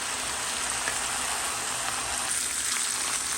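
Chicken thighs sizzle steadily in a stovetop grill pan, a dense, even crackle of frying that holds at a constant level throughout with no voices.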